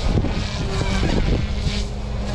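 A small remote-control helicopter whines steadily at close range, its buzzing motor and rotor wash mixed with gusty wind noise on the microphone.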